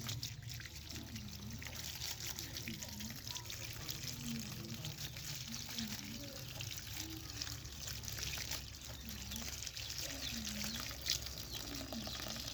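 Mustard greens and spinach are washed by hand in water, with soft sloshing and trickling splashes recurring in an uneven rhythm at close range, fairly quiet.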